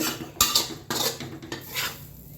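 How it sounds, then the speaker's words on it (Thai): Spatula scrapes and clinks of a metal pan as stir-fried holy basil with minced pork and shrimp is scooped onto a plate, several close scraping strokes with no talk. "ใช้ได้แล้วตัดใส่จานเลยกะเพราหมูสับกับกุ้ง"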